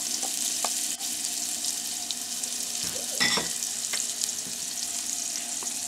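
Onion and leeks frying in oil in a pan while tilapia is being cooked, a steady close sizzle throughout with a brief stirring scrape near the middle and no talking.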